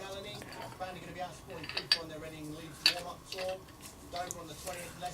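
Small metal nut and washer from an Atco mower carburettor clinking and tapping as they are handled nearby, light scattered metallic chinks mixed in with someone talking.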